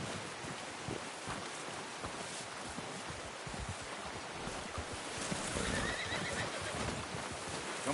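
Horse in the video game Red Dead Redemption 2 whinnying and snorting amid steady outdoor wind-like ambience, with faint hoof clops, moderately loud and close, no talking.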